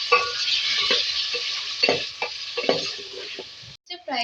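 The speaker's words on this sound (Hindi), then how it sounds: "इसको फ्राई करेंगे।" Ginger-garlic paste sizzles in a hot pan while a spoon stirs it, steady frying hiss punctuated by repeated scraping strokes, close and clear, with a brief pause near the end before the sizzle resumes.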